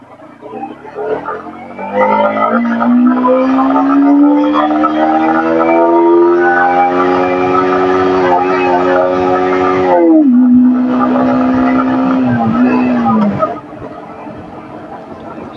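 A Yamaha MT-15 motorcycle in first gear climbs to 9000 rpm, its engine note rising steadily in a loud, nasal whine. It then drops sharply as the throttle closes and settles back to a lower hum.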